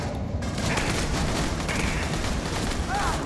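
Dense, continuous automatic fire from smart guns in Aliens: Colonial Marines, a loud rapid rattle with no gaps across the whole moment.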